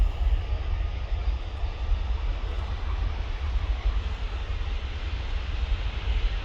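A Turkish Airlines jet takes off for Istanbul from an airport viewing park area, a steady distant roar with heavy low rumble that holds evenly throughout, with no voices.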